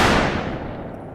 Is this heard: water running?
no